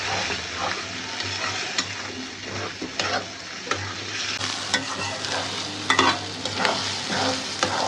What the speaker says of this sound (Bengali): এরপরে ডিম হচ্ছে সুন্দর করে ভাজা ভাজা করছি।